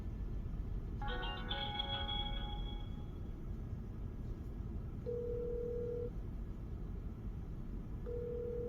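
An electronic telephone tone rings out: a bright warbling burst, then steady beeps repeating a few seconds apart over a low background hum.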